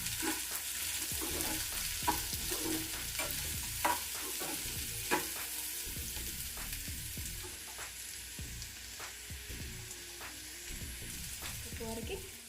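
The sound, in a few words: stirring chilli powder and biryani masala in a pan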